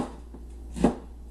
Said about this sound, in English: So let me just roughly chop this up here.